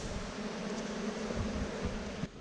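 Bees buzz continuously around a hive during a cutout from a log, a steady low drone close by with no voices, ending with a slight drop at the close.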